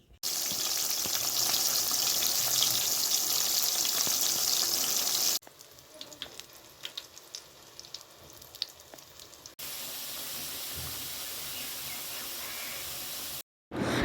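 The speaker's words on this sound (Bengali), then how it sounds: "তো চলো এবার আমি ভাজাভাজিগুলো শুরু করি।" Vegetables such as potato, eggplant, pointed gourd, bitter gourd and pumpkin sizzle loudly in hot oil in a pan, a dense steady hiss that drops away in one stretch and returns, with no voices.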